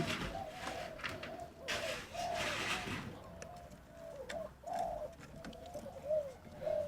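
Spotted doves coo from a hanging cage outdoors, a steady series of soft, rolling coos repeating close by with faint background noise.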